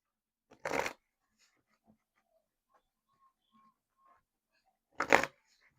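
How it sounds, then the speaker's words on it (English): Two short bursts of card shuffling, a riffle near the start and another near the end, separated by a few seconds of near silence with faint small taps. "Shuffle this up a little bit, get a few cards from here"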